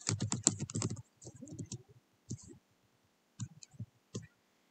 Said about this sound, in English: Type in whatever text I want.